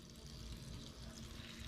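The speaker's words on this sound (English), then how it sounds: "So now we're going to fill them up with water, like so over here." Water pours quietly into a pot of vegetables for making stock, a brief, soft and steady stream of liquid.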